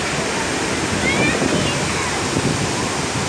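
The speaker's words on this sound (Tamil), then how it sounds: "இப்போவே தண்ணி பயங்கரமாக விழுறது." Water crashing down at Athirapally waterfall in Kerala, a steady loud broadband roar that fills the whole clip with no breaks, heard up close and mixed with some wind buffeting.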